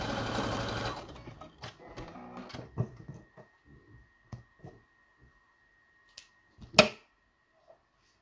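A sewing machine stitches elastic for a small turtle-shaped pincushion, a short quiet run of stitching at the start followed by scattered soft clicks and taps from handling, with no talking.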